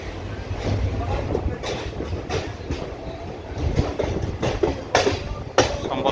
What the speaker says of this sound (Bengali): সম্বলপুর ইন্টারসিটি ছাড়লা তিন নম্বর প্ল্যাটফর্ম রু